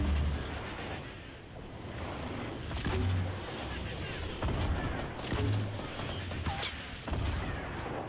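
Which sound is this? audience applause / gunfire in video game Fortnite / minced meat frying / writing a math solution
gunfire in video game Fortnite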